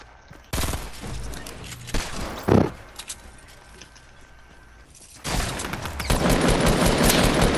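Gunfire erupts in a squad match of a shooter video game. Sharp bursts of shots come in and cut off, with a quieter stretch between them, then heavy sustained firing at the end.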